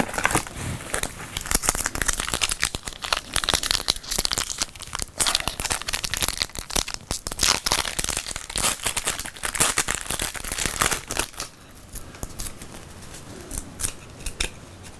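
A 1992 Fleer Ultra basketball card pack wrapper being torn open, with loud crinkling, crackling foil and ripping bursts that come in irregular spurts close by, and no talk over it.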